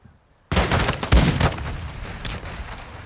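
A burst of gunshots in Call of Duty: Modern Warfare 2 breaks a near silence with loud, rapid cracks that trail off into echoing reverberation.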